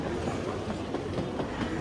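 Steady train rumble with rhythmic clickety-clack of railcar wheels, heard from aboard as the train arrives at a station in Lyon, France; continuous and moderately loud, no voices.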